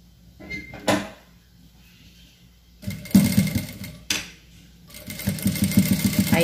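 Sewing machine stitching a reinforcement seam on a cloth diaper, two short whirring runs of rapid needle clatter after a few handling knocks, close and clear with no talking.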